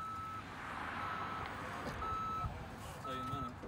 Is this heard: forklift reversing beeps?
yes